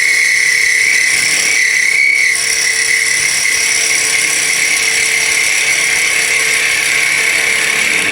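A skew chisel takes a peel cut on a spinning wood-lathe spindle while turning a top, giving a steady high whine and hiss that holds continuously, dipping briefly near the start.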